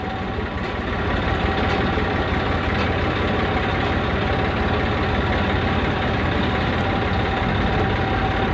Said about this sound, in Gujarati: ચાલુ કરીએ ટ્રેક્ટર હાંકવાનું.